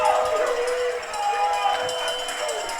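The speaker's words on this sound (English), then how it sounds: "Crowd's coming alive on this defensive play for Johnson" A football stadium crowd at an Averett versus N.C. Wesleyan college game roars on a defensive play, a broad distant cheer under an announcer's voice.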